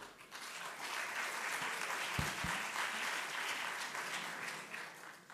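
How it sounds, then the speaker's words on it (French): Festival audience at West Web Festival 2016 applauding a speaker, a steady, fairly distant wash of clapping with a couple of brief thumps near the middle. "Voilà Jean-François, on peut l'applaudir"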